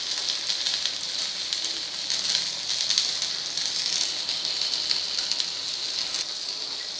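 Green moong dal vadya shallow-fry in oil in a pan, giving a continuous close crackling sizzle with rapid spattering pops that swell and ease over several seconds.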